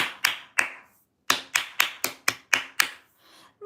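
Sharp hand claps ring out during a live violin tutorial: two claps, a short pause, then a steady run of six evenly spaced claps, close and clear with no talking.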